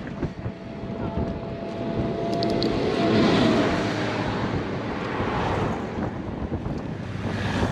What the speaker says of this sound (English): Oh, big tractor.